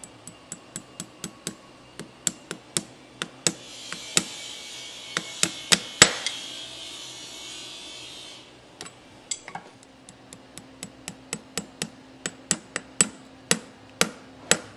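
Light hammer taps drive horseshoe nails into a horse's hoof wall while shoeing a performance horse: sharp, close metallic ticks in quick rhythmic runs, with one heavier strike in the middle and a brief rasping hiss.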